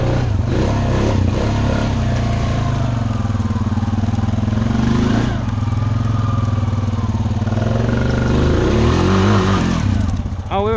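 Motorcycle engine revving during a wheelie by a creek, a loud close engine drone that rises and falls in pitch with throttle changes, with people talking over it.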